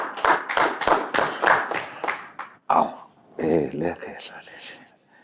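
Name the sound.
applause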